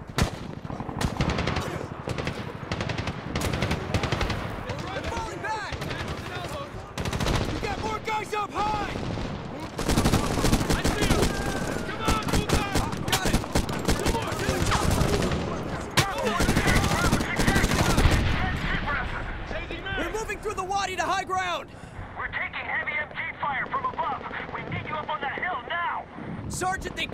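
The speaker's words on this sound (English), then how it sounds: "Heavy MG fire from the hill." Heavy machine gun fire in the 2010 video game Medal of Honor, rattling in dense, continuous bursts with gunfire and wind-like roar throughout, loud and close, while voices speak over the battle.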